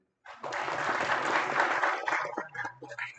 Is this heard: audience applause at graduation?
yes